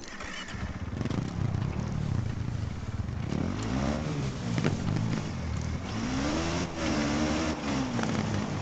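A KTM rally motorcycle engine in the Dakar 18 video game, ridden by Laia Sanz on the Cordoba stage, drones continuously and loudly, its pitch rising and falling as the throttle revs up and eases off.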